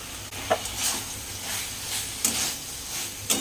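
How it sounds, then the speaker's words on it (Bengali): Shrimp paste stir-fried with spices in a pan, steady soft sizzle with a few sharp scraping strokes of a spatula at intervals, close and moderately quiet, no talking. "আর জাস্ট তিন চার মিনিট মতো এইভাবে ভালো করে কষিয়ে নেব"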